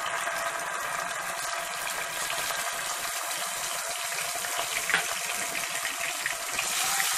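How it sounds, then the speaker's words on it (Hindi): Garlic-ginger paste frying in hot oil in a kadai gives a steady, loud, close hiss that holds evenly from start to finish, with no voices. "देखिए ऑयल हमारा गर्म हो चुका है, हम इसमें पेस्ट डालेंगे।"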